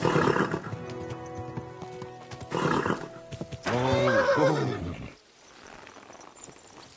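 A horse whinnies loudly twice in quick succession over a busy soundscape of music and ambient noise in Kingdom Come: Deliverance II, then things fall quiet.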